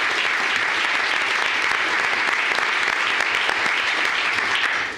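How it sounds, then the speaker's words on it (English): Audience at a county commissioners court meeting gives a sustained round of applause, dense steady clapping filling the room at even loudness for the whole stretch, with no talk over it. "Let's give a big round of applause"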